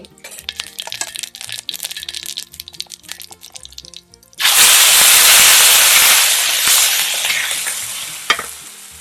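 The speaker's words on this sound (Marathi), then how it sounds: "आता मी ह्याच ताव्यावर तोंडी लावण्याचा ठेचा कलसून घेते" Chilli thecha stir-fried on an iron griddle over a wood stove outdoors in a field: stirring scrapes first, then a sudden loud burst of hissing sizzle that slowly eases, with a sharp clack near the end.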